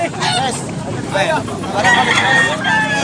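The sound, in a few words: roosters at a Cebu Tabunok Talisay market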